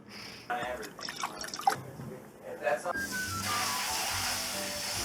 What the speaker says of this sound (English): You always want to make sure that you rinse the rice.